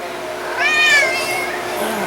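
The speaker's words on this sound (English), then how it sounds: "You got a full tummy, cat." A house cat gives a single rising meow, close and clear, against a quiet indoor background.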